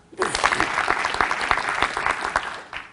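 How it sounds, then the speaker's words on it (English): A lecture audience claps together in a burst of applause, a dense close patter of many hands that starts abruptly, holds steady, then thins out toward the end. "if your answer is yes, I'd like you to clap your hands"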